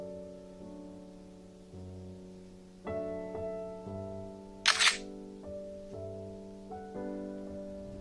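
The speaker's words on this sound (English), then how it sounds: "One thing that I didn't find is ways to turn off the camera sounds" A single short burst of a Vernee M5 smartphone's camera shutter click, crisp and close, cutting briefly across soft sustained background music.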